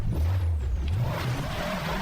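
Car engine droning steadily in a downhill driving game, the vehicle smoking on a muddy stretch after crossing desert, with a low continuous rumble and a brief rising whine.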